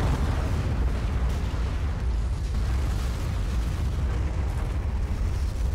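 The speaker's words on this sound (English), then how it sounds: "I don't think the explosions look convincing in this game." Explosions in Black Prophecy or Star Conflict, space combat video games: a dense, continuous low rumble of blasts and booms fills the whole stretch, loud and steady with no talk over it.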